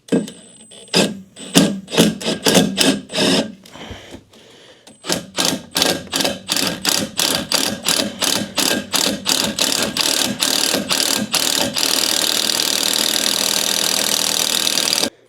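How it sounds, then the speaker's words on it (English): A power drill drills out the rest of a hole during side-by-side repair work, in a rapid series of loud, rhythmic grinding bursts that speed up into a continuous harsh roar near the end. "Now I'm just going to drill out the rest of that hole"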